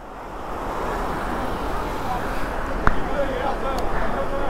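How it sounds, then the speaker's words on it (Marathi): A waterfall in a hilly area rushes as a steady, broadband roar of falling water that fills the whole scene at an even level, with a single faint tap partway through. "हा एक वॉटरफॉल आहे."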